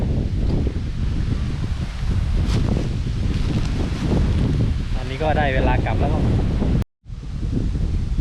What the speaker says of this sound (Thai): วันนี้อากาศลมแรงเลยครับ ลมแรง แล้วก็อากาศเย็นด้วย